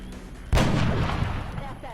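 A single loud, booming sniper rifle shot fires on overwatch in XCOM: Long War, with a reverberating tail that fades over the next second.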